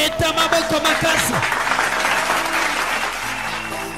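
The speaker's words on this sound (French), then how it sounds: "Acclamez très fort" Loud applause from a church congregation, dense continuous clapping from many hands filling the space, with some voices and shouts mixed in throughout.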